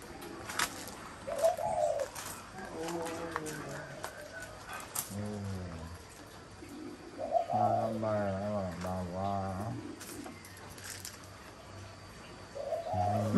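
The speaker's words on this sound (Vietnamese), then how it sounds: "Đấy, chim khiếu đấy." A hill myna calls in a garden, giving a series of clear, melodic whistled and cooing notes at close range, repeated in short phrases over faint background sounds.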